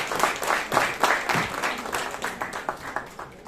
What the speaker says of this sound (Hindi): तालियां बजा दीजिए जोर से।